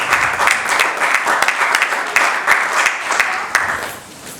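A church congregation bursts into sustained, loud applause after a Bible reading, dense clapping with a few sharper claps standing out, filling the whole stretch.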